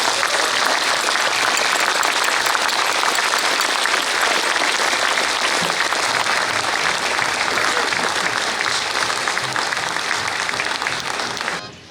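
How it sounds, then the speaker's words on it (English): A large crowd claps loudly and continuously at a D-Day 80th anniversary ceremony at the French Ambassador's residence, honoring veterans; the dense, sustained applause fills the space and only fades at the very end. "I think we deserve a round of applause."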